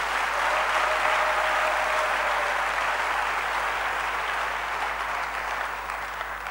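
A church congregation claps together in sustained, dense applause, loud and steady before slowly easing off, with a crowd murmur underneath.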